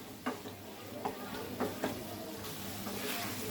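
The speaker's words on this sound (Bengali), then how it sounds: "এবার আমরা বেগুন দিয়ে দিব। আমরা কিছুক্ষণ সময় ভালো করে ভেজে নিব।" Eggplant frying in a pan, a steady close sizzle broken by a few soft stirring scrapes and taps.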